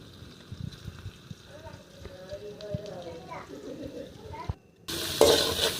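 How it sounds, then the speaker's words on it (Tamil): Spices sizzling as they are sautéed and stirred in a pan with turmeric and salt, a steady soft frying hiss under a speaking voice, ending in a louder burst of sizzle. "நல்லா வதக்கி விட்டுக்கோங்க"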